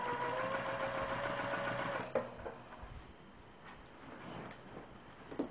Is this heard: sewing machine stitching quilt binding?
yes